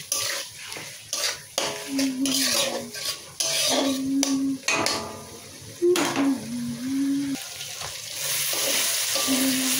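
Masala with turmeric and salt sizzles in a pan for a pea and potato ghugni, loud close frying broken by repeated scraping stirs and clinks of a spoon against metal.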